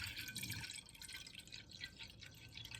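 Bottled water poured into a pot for cooking breakfast potatoes, a steady close trickle of liquid with dripping, splashing texture running throughout, fairly quiet.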